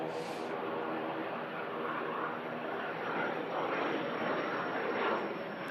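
A Turkish Airlines Airbus A330 taxis toward its departure holding point at an airport, a steady broadband engine roar held at even loudness throughout, fairly close and without talk.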